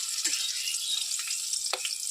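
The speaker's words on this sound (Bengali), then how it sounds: "প্রথমে কড়াই বসিয়ে দিয়েছি, তেল গরম হয়ে গেছে। এরপর অল্প অল্প করে আমি ভেজে নেব।" Pointed gourd fries in hot mustard oil in a wok, giving a steady bright sizzling hiss up close, with a few quick stirring scrapes near the start and end.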